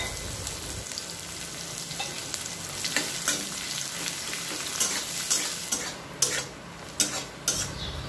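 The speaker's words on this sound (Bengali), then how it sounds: "পেঁয়াজটাকে এবার হালকা লাল করে ভেজে নেব।" Chopped onion frying in oil with cardamom, cinnamon, cloves and cumin, with a close sizzle and a spatula scraping and tapping the pan, the strokes growing sharper and more frequent toward the end.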